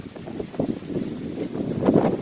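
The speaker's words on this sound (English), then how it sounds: "It's windy." Wind buffets the microphone in rumbling gusts, loud and close, with no voices.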